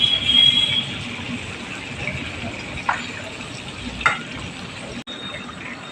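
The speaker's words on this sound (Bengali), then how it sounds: "এবার আমি এখানে কভার করে ঝিঙে আছে তা ফ্রাই হবে।" Ridge gourd fries in a covered pan with a steady, dense sizzle, broken by a couple of soft utensil clicks and a brief cut near the end.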